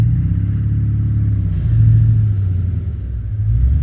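A 2003 LB7 Duramax diesel engine with a fuel issue revving at partial throttle, a deep close rumble that swells and eases in uneven surges.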